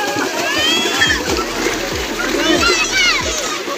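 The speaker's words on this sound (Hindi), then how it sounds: "पानी नहीं उड़ाओ ना बेटा, हम सब गीले हो जाएंगे ना" Children splashing water at a shore in Dhabeji, Sindh, with steady sloshing and splatter throughout, under bright children's voices and adult talk, fairly close and loud.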